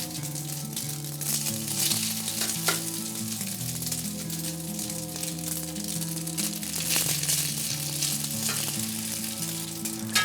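Saffron noodle mixture fries in melted butter in a pan, a steady dense sizzle with faint scraping, holding at an even level throughout under low background music, with no one speaking.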